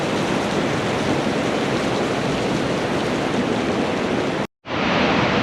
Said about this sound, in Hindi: क्या फ्लो है, कितना तेज़ आवाज़ आ रही है पानी की